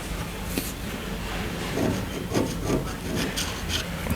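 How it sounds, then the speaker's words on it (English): A chisel edge scrapes through paint on a surface in short, gritty strokes, a soft close rasping that repeats irregularly with a few stronger swipes midway. "scrape right through the paint"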